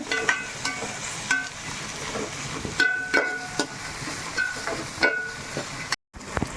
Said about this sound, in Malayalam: ഇനി സബോള ഇട്ടിളക്കി നമുക്കൊന്ന് ഒന്ന് വഴന്ന് വരട്ടെ